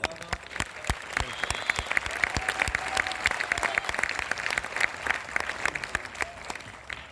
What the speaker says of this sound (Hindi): पूरा सदन एक बार ताली बजा के मुझे बताना